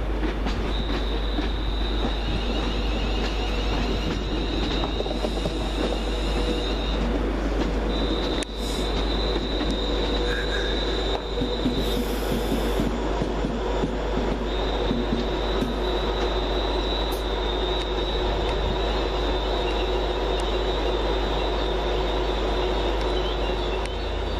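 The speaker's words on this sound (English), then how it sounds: "Coming in to terminate off Walsall for London Midland is" A London Midland train pulls into Wolverhampton station, a steady loud rumble of wheels and traction with intermittent high wheel squeal and flange screech throughout, no voices over it.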